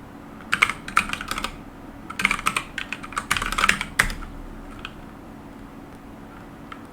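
A Docker command typed on a computer keyboard, rapid close keystroke clicks in quick bursts for about four seconds, then a near-silent pause with faint room hiss.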